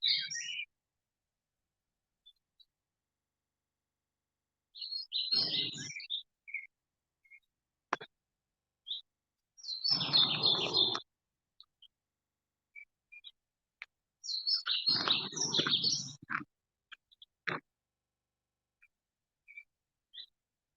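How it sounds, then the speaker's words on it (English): Birds call and chirp in a forest in the canton of Bern, Switzerland, with short scattered calls between louder bursts of rustling noise and no talking. "For the moment, I'm going to let you listen to the birds."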